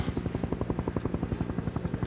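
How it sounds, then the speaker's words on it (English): Rapid rhythmic thumping of helicopter rotor blades, a steady loud chop throughout, close overhead. "Helicopter."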